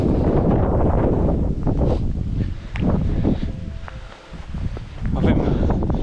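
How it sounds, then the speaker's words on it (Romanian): Gusty wind on the climb up Piatra Secuiului above Rimetea in the Apuseni Mountains roars against the microphone in loud, rumbling buffets, easing briefly in the middle before picking up again. "Aici bate vântul."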